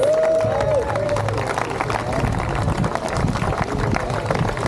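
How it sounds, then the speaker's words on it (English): An outdoor race crowd applauds the volunteers, a loud sustained roar of many hands clapping close by, mixed with cheers, a whistle at the start and chatter throughout. "Let's give a round of applause for all of our volunteers."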